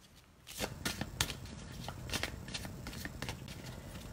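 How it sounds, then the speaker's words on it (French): Playing cards being shuffled by hand during a tarot-style reading, a quick run of soft papery riffles and flicks repeating close up for several seconds, with no talking. "Je vais rebattre les cartes."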